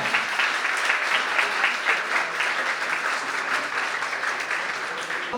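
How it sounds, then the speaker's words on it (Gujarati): A large seminar crowd claps vigorously in a sustained, dense round of applause that fades slightly toward the end. "જોરદાર તાળીઓ. જેટલું માર્ગદર્શન મળ્યું છે એટલી તાળીઓનો અવાજ"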